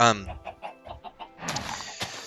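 Quick, soft chicken clucks from a video game repeat in a rhythmic series close by, followed by a brief burst of noisier sound; no talking.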